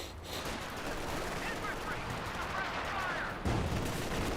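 Infantry rifle and machine-gun fire in the World War II strategy game Company of Heroes 2, a dense, fairly faint crackle of distant volleys under a voice talking, ending with a louder thump.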